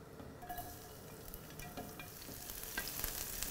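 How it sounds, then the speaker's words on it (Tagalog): Garlic sautéing in extra virgin olive oil in a very hot pan, a steady close crackling sizzle with a few brief clicks of stirring and no talk. "First step is to saute our garlic. So make sure your pan is very hot."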